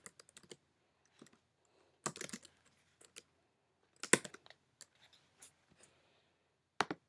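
Computer keyboard typing in short, irregular bursts of close, crisp key clicks separated by quiet pauses, with no one talking.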